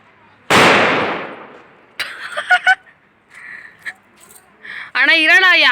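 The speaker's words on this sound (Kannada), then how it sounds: "ಅಲ್ಲೇ ಪಟಾಕಿ ಹೊಡಿತಿರತ್ತು." A firecracker set off to celebrate a reality-show winner bursts once, loud and close, with a decaying crackle, followed by people talking nearby.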